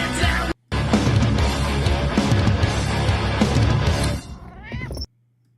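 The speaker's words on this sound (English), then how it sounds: "So yes, you are hearing kitty meow at the end of the show." A pet cat meows near the end of a talk show broadcast, a short rising cry after a long stretch of dense, loud program sound that cuts out abruptly, followed by near silence.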